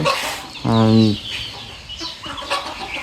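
Chinese ducks on a small farm give a loud, close burst of harsh nasal quacking around the first second, followed by quieter farmyard calls and rustling.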